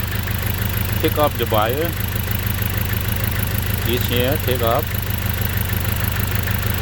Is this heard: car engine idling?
yes